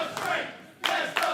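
Wrestling crowd chanting in rhythmic bursts, two loud shouted pulses from a crowd with a brief lull between them.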